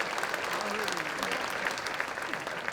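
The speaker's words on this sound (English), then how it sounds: "give them a round of applause" A crowd at a Garland Sports Hall of Fame ceremony applauds the nominees, sustained even clapping filling the hall at moderate level, with a faint voice briefly audible underneath.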